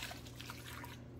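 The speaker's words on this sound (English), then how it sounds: "Can you pour the juice in?" Juice is poured into a pot of homemade cranberry sauce in a kitchen, a soft continuous trickle and pour that is faint and steady before it stops.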